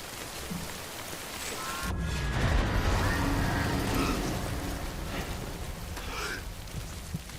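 Timefall rain in the video game Death Stranding, a steady broadband hiss of falling rain that thickens into a heavier wash partway through, with no voices.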